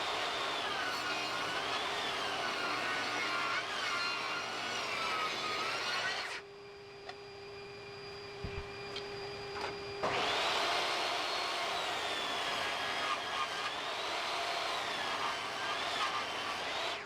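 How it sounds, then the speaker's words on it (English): A thickness planer runs boards cut from a 2x4, a loud steady whining roar that drops away for a few seconds between passes, leaving a quiet hum, then resumes. "Run all 3 boards, keeping the same face against the fence each time."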